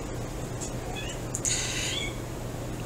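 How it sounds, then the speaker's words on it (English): A pet cat meows from behind a door while trying to get into the room, a few faint, distant calls over a steady indoor background hum. "You guys probably hear my kitty back there, Callie."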